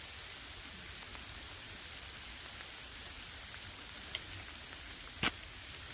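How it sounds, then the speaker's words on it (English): Hail falling outdoors on a snowy May day on the Appalachian Trail, a steady dense patter of pellets hitting the ground and a fleece jacket, with a couple of sharper close ticks near the end and no talking. "This is considered hail,"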